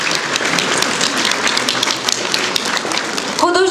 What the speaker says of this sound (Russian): Давайте аплодисментами поприветствуем наших почетных гостей